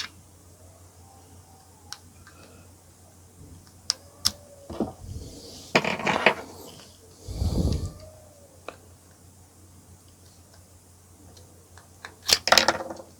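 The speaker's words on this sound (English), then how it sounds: "I'm going to get a small flat screwdriver to open this." A small flat screwdriver prying open the plastic case of a VW Passat key fob: scattered sharp ticks and clicks, with a few louder crackling snaps of plastic giving way near the middle and end, close up with no talk.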